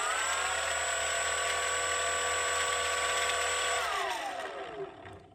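The electric motor and propeller of a repaired, previously crashed RC airplane run up during a throttle check with a loud, steady high whine, then spool down as the pitch drops and the sound fades out.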